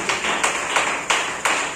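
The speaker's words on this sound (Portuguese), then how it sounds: "Pode bater mais palmas, igreja" A church congregation claps in unison during a worship service, loud, steady beats roughly three per second over a continuous roomy wash of sound.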